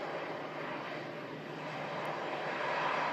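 An aircraft at Manchester Airport during Storm Lilian gives a faint, steady, distant engine roar with no other sounds.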